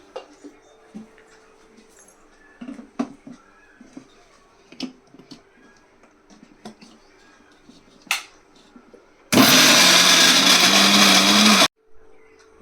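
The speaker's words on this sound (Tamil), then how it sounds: "மசாலா நல்லா ஆறிடுச்சுங்க நம்ம மிக்சியில் அரைச்சி எடுத்துக்கலாம்" Mixer grinder blending cooled masala paste for Kerala sardine curry, a loud steady whir bursting in for a couple of seconds after quiet kitchen clatter and taps, then cutting off abruptly.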